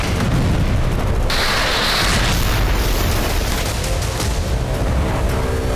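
Heavy bombardment of Hezbollah positions inside Lebanon by the Israeli army: a loud, dense, continuous roar of explosive blasts and rumbling booms that fills the whole stretch without letup.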